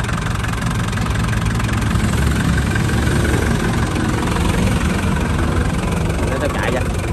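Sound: Iseki TR63 tractor engine running

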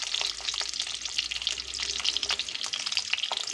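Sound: frying eggs with salt and turmeric

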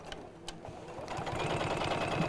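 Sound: sewing machine stitching trapunto quilting

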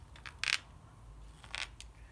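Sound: sharp knife carving across wood end grain

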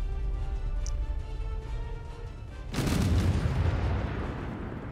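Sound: weapons firing in the video game Space Engineers

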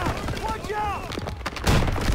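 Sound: gunfire in the video game Call of Duty WW2

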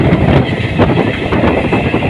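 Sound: train running through a station

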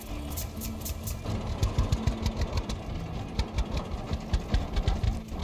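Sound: tractor engine in Farmer's Dynasty video game

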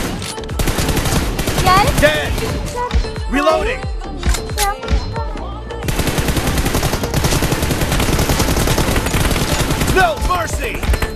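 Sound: gunfire in a video game shootout

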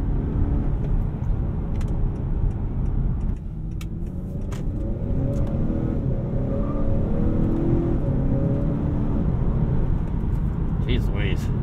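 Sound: Honda Accord 2.0T Sport engine while driving

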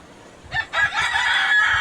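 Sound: Egyptian Fayoumi chicken rooster crowing

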